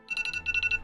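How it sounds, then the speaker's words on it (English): An alarm rings in short repeated electronic bursts, about seven quick pulses in two groups, close and fairly loud, with no talk over it. "Shut up, alarm."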